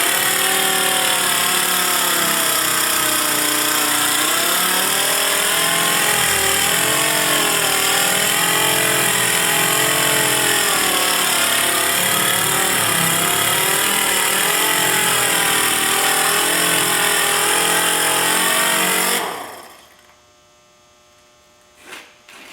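A power sander with a new pad wet-sands the paint of a 2000 Chevrolet Silverado 1500, droning loudly and steadily with a wavering motor hum, then cuts off abruptly near the end, leaving near silence.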